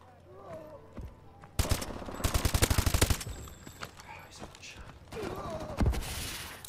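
Rapid gunfire in a video game, including shotgun blasts, crackles in loud bursts, the densest volley rattling through the middle with scattered shots after, while voices talk in the background.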